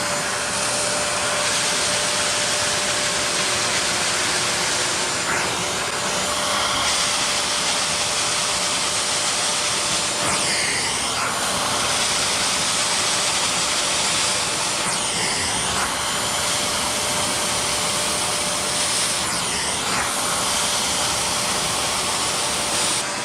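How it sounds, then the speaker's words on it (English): Bissell SpotClean Professional 3624 portable carpet cleaner suctioning leftover moisture from carpet, a loud, continuous motor roar held steady throughout with slight sweeping changes as the nozzle passes. "I went over some of the other areas again to suction up any remaining or extra or excess moisture"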